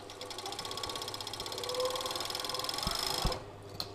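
A coverstitch binding machine runs steadily, sewing fold-over binding onto a T-shirt armhole, with a fast even mechanical whir and rhythmic needle ticking that continues for a few seconds, then stops abruptly, leaving a couple of faint clicks.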